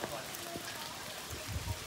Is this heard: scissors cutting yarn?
no